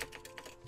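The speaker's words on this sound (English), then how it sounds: "Oh, I keep typing that." Quick keystrokes on a computer keyboard, a handful of soft clicks spread across under a second, fairly faint and close with no talking over them.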